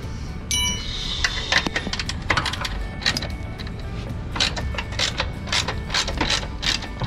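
A ratchet wrench loosens a battery terminal nut on an Isuzu Elf NHR69 truck, giving bursts of quick metallic clicks and clanks, close and fairly loud, with no talk.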